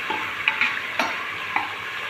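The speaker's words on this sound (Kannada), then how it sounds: "ಈರುಳ್ಳಿನ ಹಾಕ್ಬಿಟ್ಟು ಸ್ವಲ್ಪ ಆಯಿಲಲ್ಲಿ ಚೆನ್ನಾಗಿ ಈರುಳ್ಳಿ ಫ್ರೈ ಮಾಡ್ಕೊಳ್ಳೋಣ." Chopped onions fry in oil in a pan until golden brown for a vegetable pulao, giving a steady close sizzle broken by a few sharp scrapes and clicks from stirring.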